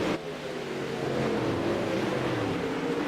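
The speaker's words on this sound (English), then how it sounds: "Tim Smith gets on the loud pedal, and we're back racing, ladies and gentlemen." Race cars at Lanier accelerating off a restart and back to racing speed, a continuous loud engine roar that rises slightly over a few seconds, with no talk.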